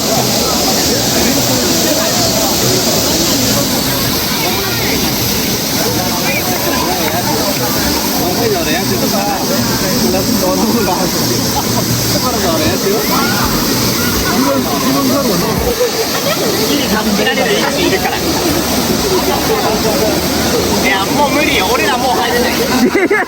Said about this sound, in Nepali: त्यो राम्रो झरना पनि रहेछ कि